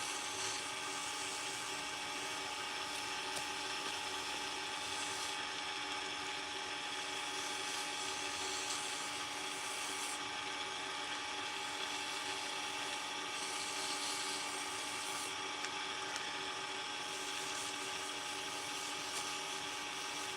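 Aggressive sanding runs as a continuous, fairly faint broadband grind with a steady tonal whine, pressed harder at close range, with slight periodic dips in intensity and no talking.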